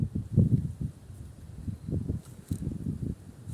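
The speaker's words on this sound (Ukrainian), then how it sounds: "Дує добряче." Strong wind blows outdoors in a vegetable garden during an autumn harvest, heard as low, rumbling gusts buffeting the microphone in uneven surges, with no voices.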